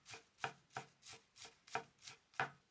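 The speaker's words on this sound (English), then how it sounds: "Finally, chop it finely. This cutting is an efficient way to mince Japanese leek." A knife finely chops Japanese leek on a cutting board, with eight crisp, evenly spaced taps in a quick steady rhythm, close and clear with no talking.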